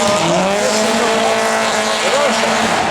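A rally car runs a stage of the 50th Barbórka Warszawska rally in Warsaw, its engine revving loudly with rising and falling pitch and brief tyre squeal, while a voice talks over it.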